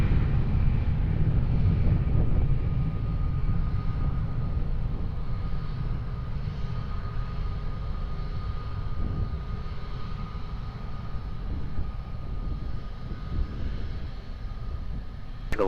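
A steady low engine roar from a plane at Lisbon Airport, continuous and fairly loud throughout, with no voices.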